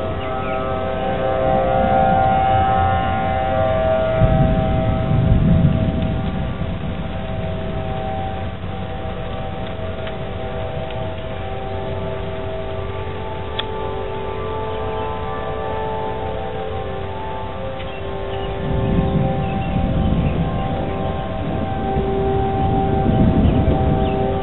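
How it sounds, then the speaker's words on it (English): Civil defense siren sounding a thunderstorm warning, a long steady wail rising and falling in distant swells across the whole stretch, with no voices over it. "I don't know where that siren is."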